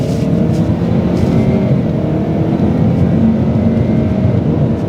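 A Holden Commodore ZB with a 2-litre turbo engine, an ex-police car, pulls hard under acceleration, its steady, fairly muted engine hum and road noise droning continuously throughout without much rise in volume.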